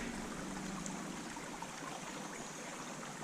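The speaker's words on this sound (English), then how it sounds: "there's this brook runs through the woods" Steady, soft rushing of a brook flowing through pine woods in the New Hampshire White Mountains in summer, a continuous even wash of water with no voices.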